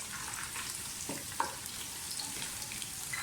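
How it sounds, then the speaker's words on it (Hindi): Onions with a bay leaf fry in hot oil in a pot for chicken pulao, a steady close sizzle with a few faint stirring scrapes and no voice. "प्याज ब्राउन होना शुरू हो गए, तेज़पात डाल दें"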